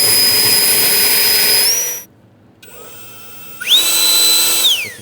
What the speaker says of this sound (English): this is my new powerful leaf blower I bought a few days ago